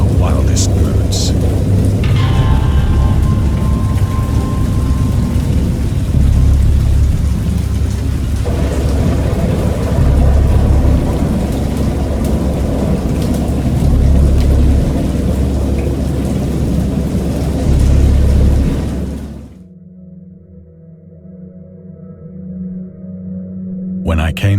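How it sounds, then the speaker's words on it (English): Heavy thunderstorm in the video game Dagon, with dense, loud rain and rolling thunder that rumbles continuously before cutting off abruptly into near silence near the end. "I know that I heard peals of thunder and other tones which nature utters only in her wildest moods"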